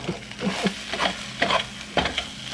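Ropa vieja beef browning in a very hot pan, with stirring scrapes and bursts of sizzle at a steady, close range, several distinct stir strokes over a continuous frying hiss.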